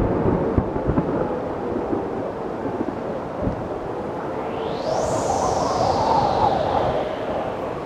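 Rolling thunder from a storm capable of producing tornadoes, a loud deep rumble with crackling bursts and a steady roar of wind and rain, joined midway by a rising then falling tone.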